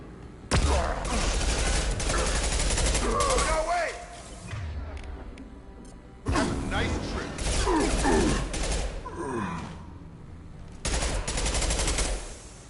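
Automatic weapon fire in Mass Effect 2 comes in three long, loud sustained bursts separated by short lulls, with a voice talking over the firefight.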